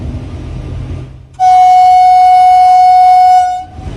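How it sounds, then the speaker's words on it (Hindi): A railway locomotive horn sounds automatically as the train nears a level crossing: one long, loud, sustained blast that starts abruptly, holds for about two seconds, then cuts off, over a low rumble of the moving train. "जैसे ही रेलवे क्रॉसिंग करीब आया, खुद ब खुद हॉर्न बजने लगा।"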